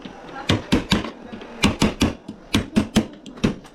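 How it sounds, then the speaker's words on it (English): Repeated sharp knocks as a chisel is driven into a wooden door stud while fitting a mortise lock, about a dozen close, loud strikes in uneven pairs and bursts. "I'm gonna use the chisel to actually cut the stud a little bit."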